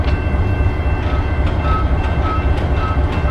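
Locomotive hauling a railroad car along the track, a loud, steady rumble of wheels and engine close by, continuous for a few seconds with no voices.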